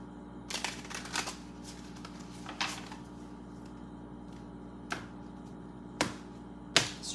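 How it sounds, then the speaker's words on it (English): Tarot cards being shuffled by hand, several crisp riffling bursts and sharp snaps spaced irregularly in a quiet room, close and fairly soft. "Okay, one more shuffle."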